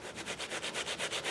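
A deep cleaning sponge scrubs an Indiana Jones style jacket at medium pressure in quick, even back-and-forth strokes, a steady close rasping rub with no voices.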